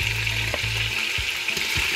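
Oxtail pieces brown and fry in a hot pan with a close, steady sizzle, broken by a few clanking strokes as the meat is stirred.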